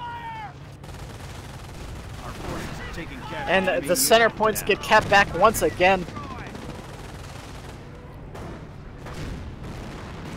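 Bursts of rapid gunfire and explosions from a Company of Heroes battle, with a King Tiger tank under fire from anti-tank guns, crackle loudly in the middle of the stretch while a commentator talks throughout.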